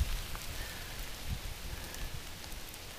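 Steady rain falls along the Appalachian Trail, a continuous even hiss of drops on the surrounding surfaces with no voices.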